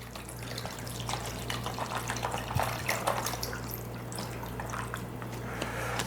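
Water runs and drips steadily over freeze-dried pasta set out to soak, a continuous close trickle with small splashes over a low steady hum.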